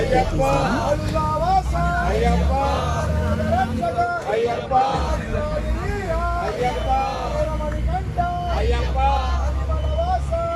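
Bus ride from Kottayam railway station in Kerala, the engine rumbling steadily beneath loud passenger chatter and babble, with horn-like tones and road noise throughout.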